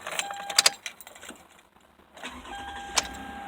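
Keys jangle and clink near the ignition of a Toyota Highlander, then the engine cranks and catches into a low idle, heard close from inside the vehicle.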